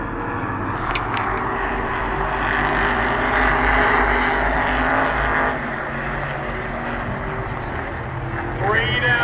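Modified stock cars roar around Jennerstown Speedway in a heat race, engines droning loudly and continuously with a swelling pass midway, while an announcer talks over the noise.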